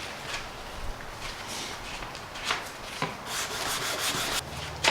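Fine 1000-grit sandpaper rubs over a 3D printed part in steady back-and-forth strokes, a soft, close scratchy hiss with a few brief louder scrapes and no talking.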